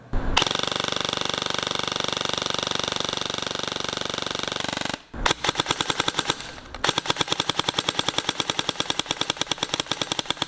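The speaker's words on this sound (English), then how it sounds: "this gun is shooting right around 350 FPS with .20 gram BBs" A G&G SSG-1 airsoft gun firing .20 gram BBs in a chrono test: a long steady buzzing full-auto stream for about five seconds, then rapid evenly spaced mechanical clacks in quick bursts, loud and close with no talk.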